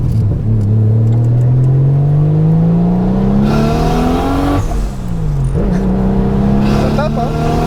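A Nissan Skyline R33 GTS25t engine revs hard while the car accelerates: a loud, close, rising drone that climbs through the gears, with brief drops at the gear shifts. People talk excitedly over it.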